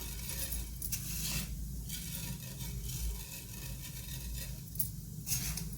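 Sesame seeds are added to a hot pan with cumin over a low gas flame and crackle and sizzle steadily, with faint ticking and clinking over a constant hiss.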